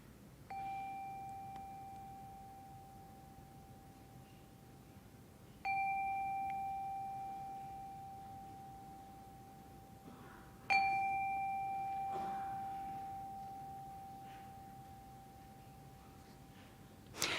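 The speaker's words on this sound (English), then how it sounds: "calm our hearts with the ringing of the chime" A clear chime rings three times at a Christmas Eve church service, each strike sustaining and slowly fading over several seconds in a quiet room.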